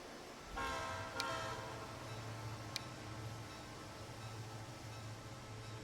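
A diesel train in the Transport Fever 2 video game rumbles steadily with a low engine drone as its horn sounds in layered blasts, with a couple of sharp clicks along the way.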